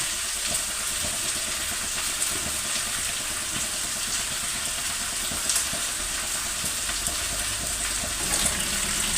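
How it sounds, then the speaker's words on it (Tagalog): Water is poured into a cooking pot for corn, giving a steady, close hiss and bubbling wash with small clinks and ticks throughout and no talk. "maglalagay po tayo ng tubig."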